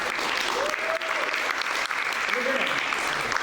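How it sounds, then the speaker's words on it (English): Audience applause at a live comedy and magic show, continuous full-room clapping with voices faintly audible underneath. "Everybody, give them a round of applause."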